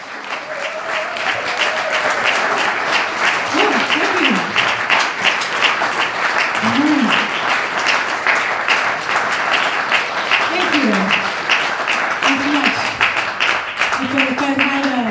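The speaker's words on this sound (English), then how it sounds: "round of applause for those guys" Applause from a concert audience on Powder Horn Mountain, a continuous, even clatter of many hands, with a few voices and whoops rising briefly over it.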